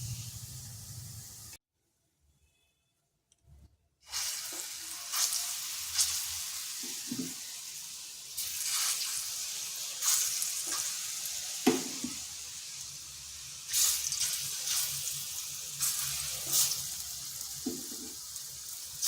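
Vegetables shallow-frying in hot oil in a pan for a Bengali lau sukto, a steady close sizzle with scattered louder crackles and stirring, broken by a brief quiet gap near the start.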